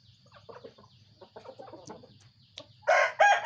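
Hens cluck softly in short bursts, then a rooster crows loudly and close at the end.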